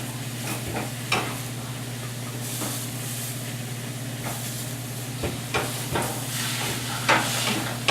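A burger patty sizzles steadily in a hot pan with a dense, continuous hiss and crackle, close and constant, broken by a few soft clicks and scrapes.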